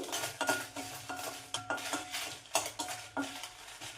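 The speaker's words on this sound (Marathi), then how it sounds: "सगळ्या शेवटी लाल मिरच्या भाजून घ्यायच्या" Dry red chillies roasting in a hot pan, stirred with a metal spoon that scrapes and clinks against the pan in quick, irregular strokes over a faint sizzle, close and alone.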